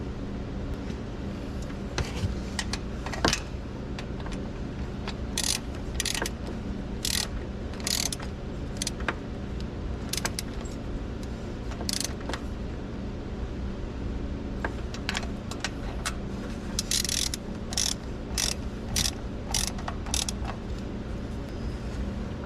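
A ratchet wrench clicks in repeated short bursts with metallic rattles, tightening water pump bolts to torque spec on a GM 6.0 engine, close and steady over a low background hum.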